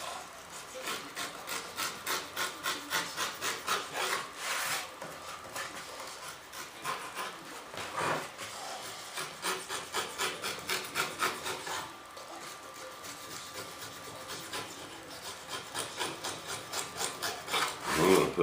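A knife shaves and trims the edge of a molded part in a few short repeated passes, giving a close, steady scraping and rubbing with brief pauses and no talk.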